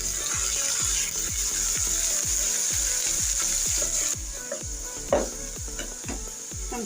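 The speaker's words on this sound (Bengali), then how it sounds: "পেঁয়াজটা আমি হালকা করে একটু ভেজে নেব।" Two tablespoons of ground onion paste fry in a pan with a steady sizzle, while a spoon stirs in regular, rhythmic scrapes throughout, close and fairly loud with no voices.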